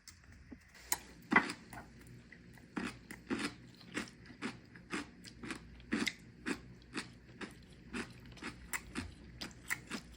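Crunchy chewing and biting of a meal with bean sprouts, a steady series of close, crisp bites and chews with occasional faint clinks, no talking.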